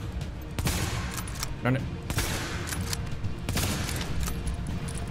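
Gunfire in The Division video game, several sharp shots scattered across the moment, some in quick bursts, with players talking over the action.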